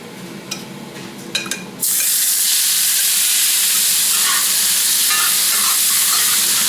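Chicken hits smoking-hot olive oil and bursts into loud, continuous sizzling and frying after a few quiet clinks of a utensil, the hiss holding steady and close to the end.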